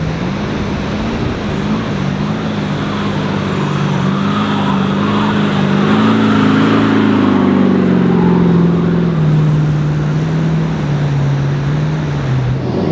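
A vehicle drives along a beach, its steady engine drone rising slightly in pitch midway and continuing loud and close throughout, with no voices.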